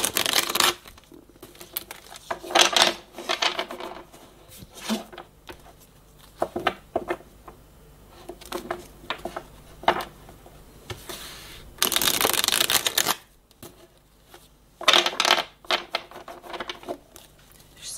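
Playing cards are shuffled by hand for a card reading, with repeated bursts of riffling and flicking in irregular rhythm, close and fairly quiet, separated by brief pauses.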